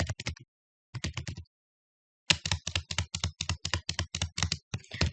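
Quick bursts of typing on a computer keyboard as code is entered, crisp close key clicks in short clusters separated by pauses, then a longer steady run of keystrokes.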